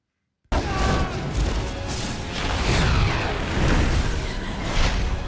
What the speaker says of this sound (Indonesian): ia terkena tembakan bola api yang dilakukan oleh Pangeran Zuko